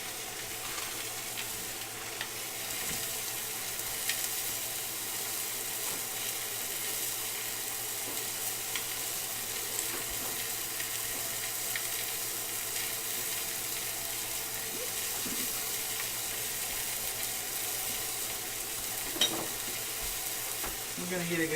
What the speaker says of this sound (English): We're going to get a good sear on that guy, kind of move it around back and forth, make sure it's getting done.